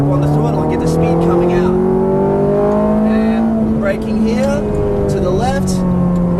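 A Ferrari F430 engine pulls hard out of a corner, its tone climbing loud and steady as it accelerates, with brief tyre squeal and a voice underneath.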